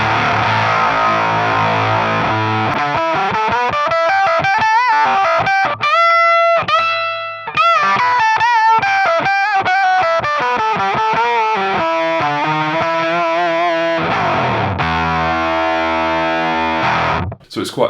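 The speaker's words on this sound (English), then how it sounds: "it is an octave fuzz, and it's got quite a prominent octave" Electric guitar played through an octave fuzz pedal, a thick, heavily distorted tone with a strong upper octave, sustained riffs and bends ringing loud and close, ending with a brief cutoff.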